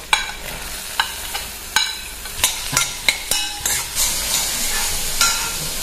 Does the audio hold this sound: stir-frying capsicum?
yes